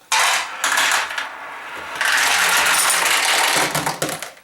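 Steel pachinko balls clatter and rattle through the supply tray of a Julie pachinko machine in quick metallic bursts, with a short lull partway through before a longer run of rolling and jangling.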